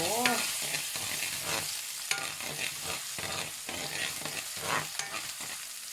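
Bean sprouts stir-fried in a pan, a continuous close sizzle broken by repeated scraping stirs and clinks of the utensil.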